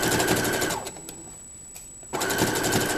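Sewing machine stitching a gathered ruffle onto a pair of pants, running in two fast bursts with a short pause between, close and steady.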